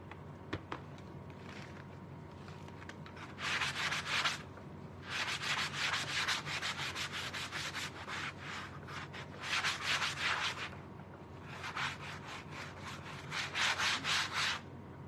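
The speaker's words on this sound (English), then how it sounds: "I'm going to use my sanding block to sand this off." Repeated bursts of hand sanding with a sanding block on a craft piece, four to five rhythmic scrubbing passes separated by short pauses, close and fairly loud over a quiet room hum.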